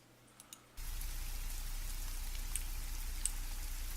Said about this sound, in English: I still think the rain can actually come down a little more.